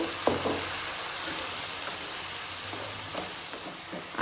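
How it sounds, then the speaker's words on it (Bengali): Ginger, green chili and garlic paste hits a pan of frying onions and tomatoes, giving a steady close sizzle with a few soft stirring scrapes and no talking. "এবার এই আদা লঙ্কা রসুনের পেস্টটাকে দিয়ে দেব"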